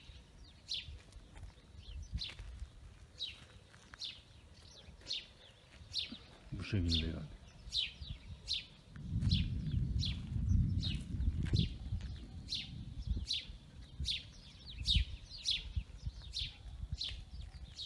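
Birds sing at a beach after rain, a regular series of bright repeated chirps over a quiet background, with someone briefly talking in the middle and a low rumble beneath.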